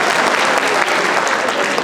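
An audience at an employee annual day celebration keeps up steady, dense applause with loud continuous clapping and no break.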